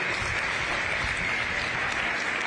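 Steady, dense applause and clapping from a ringside crowd at a youth fair goat show, honoring the kids who showed goats, sustained and even throughout.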